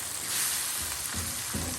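Eggs and onions frying in a pan as they are mixed together, a loud, close sizzle with a couple of low stirring scrapes toward the end of the brief stretch, no voices.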